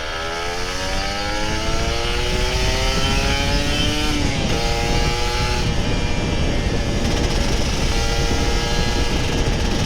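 An old Kawasaki Ninja RR 150 two-stroke motorcycle accelerates hard, its buzzing, rising engine note climbing through several gears, loud and close throughout.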